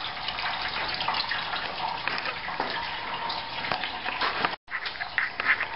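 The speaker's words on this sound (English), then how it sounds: "I'm commenced to draining the radiator right now" Coolant drains from a Toyota Corolla radiator into a pan, a steady close trickling and splashing of liquid that runs continuously at moderate level with a brief break near the end.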